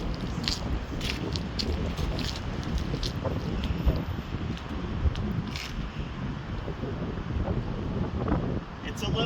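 Wind blows outdoors as steady, broadband rumbling and buffeting across the microphone throughout, loud and continuous, with no clear speech.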